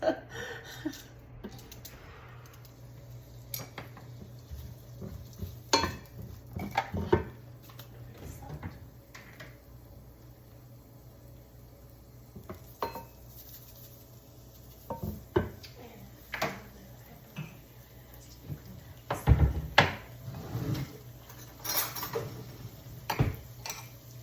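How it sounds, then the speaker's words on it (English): A knife chops onions into small pieces on a cutting board, with irregular, fairly faint taps and knocks in scattered bursts, some louder strikes standing out over a quiet kitchen background. "I'm just gonna chop the onions just at random, just random little pieces"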